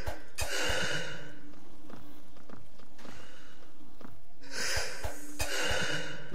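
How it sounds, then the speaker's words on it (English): Harsh, loud creature gasps in the horror game Eldritch, long ragged wheezing breaths that come and go in bursts, with quieter scuffing between them. "The gasping noises are fucking horrible."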